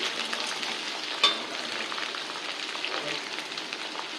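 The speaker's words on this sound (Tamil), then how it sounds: "நான் வெங்காயத்தை போடுறேன். வெங்காயம் நல்லா வதங்கி வரணும்." Onions fry in a pan for a dosa stuffing, making a dense, even sizzle throughout with one sharp click partway through.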